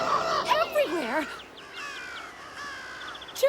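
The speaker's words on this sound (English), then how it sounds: "Birds everywhere." A flock of cartoon birds gives harsh crow-like caws, several overlapping calls close together early on, then quieter scattered cries over a faint background.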